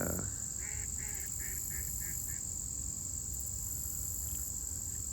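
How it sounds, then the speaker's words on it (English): A duck quacks in a quick run of about half a dozen honking calls, then falls quiet, while crickets chirr steadily in the background of an outdoor setting in South Bend. "this duck, which is quacking at something or someone"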